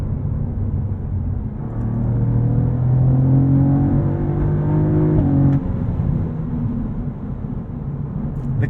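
A 2023 Cadillac CT4-V Blackwing's twin-turbo engine revs hard while accelerating, a loud, close drone climbing steadily in pitch before dropping abruptly at an upshift, then pulling again without any talk.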